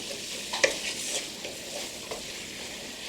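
Celery, onions and garlic sautéing in a pan with Creole seasoning, a steady close sizzle with a few faint stirring scrapes and clinks and no voices.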